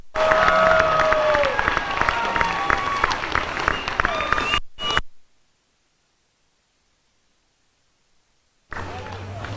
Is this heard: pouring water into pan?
no